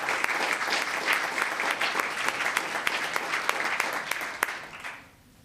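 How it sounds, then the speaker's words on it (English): Sustained applause from a town council meeting audience, dense steady clapping from a crowd that carries for about five seconds before tapering off quickly. "Another round of applause, please."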